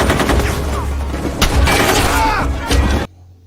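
Dense rifle and automatic gunfire in a sniper firefight, loud and continuous with heavy booming shots, faint voices mixed in, cutting off abruptly near the end.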